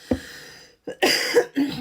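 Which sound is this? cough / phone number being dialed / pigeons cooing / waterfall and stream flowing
cough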